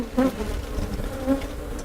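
Bees buzz inside a bee vacuum, a dense, steady insect hum close to the pickup with a few louder swells of wingbeats rising above it.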